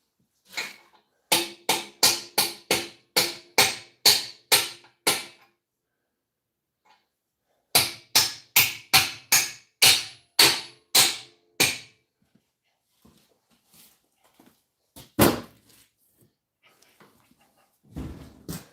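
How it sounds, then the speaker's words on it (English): A hammer smacks something in two rapid volleys of about eight sharp, loud cracks each, separated by a short pause, followed by sparser quieter knocks and a couple of final hard hits. "When in doubt, smack it with a fucking hammer."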